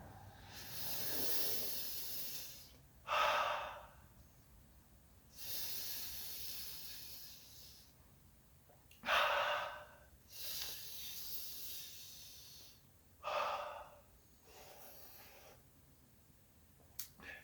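Someone breathes heavily after eating a hot pepper: about half a dozen harsh, hissing breaths come in uneven bursts, close and fairly quiet, with no talking.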